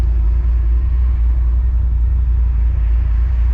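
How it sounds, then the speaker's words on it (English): A 700 hp Ford Mustang with a Corsa sport exhaust idles with a deep, steady bass rumble, loud and close, unbroken and alone. "you get this really low bass when you're idling, just going through the car"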